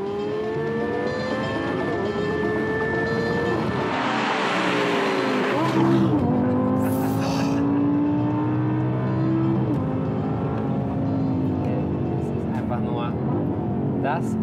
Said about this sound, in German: Die Stimmgewalt der 588 PS im Heck sorgen für Gänsehaut.